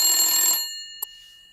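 A telephone bell rings in one bright, metallic burst that decays over about half a second, followed by a short click and near silence.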